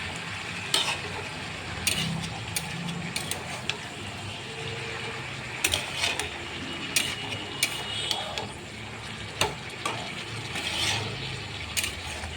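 Stirring soaked, squeezed banana flower in a cooking pan, with soft scraping and light sizzling under scattered sharp utensil clicks against the pan, close and steady throughout.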